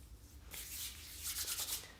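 Hands rub coconut oil onto facial skin, a soft close brushing and smearing friction in quick strokes over about a second and a half, alone in a quiet room.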